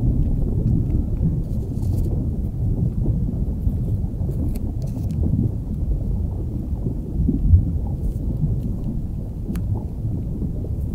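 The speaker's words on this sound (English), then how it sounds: "Is that rain outside?" Steady rain heard from indoors forms a dense, low, rumbling wash that holds at an even level, with no talk over it.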